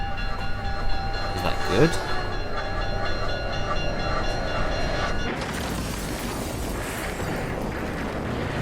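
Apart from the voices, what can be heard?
train running in the video game Universe Generator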